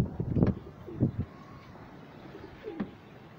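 A few soft, low pigeon coos close by, in short rounded bursts with pauses between, over a faint breezy background.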